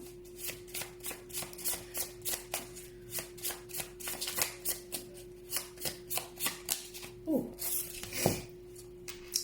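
A Hawaiian-inspired oracle card deck is shuffled in a steady run of quick riffling bursts, close and moderately loud, with a faint steady hum underneath.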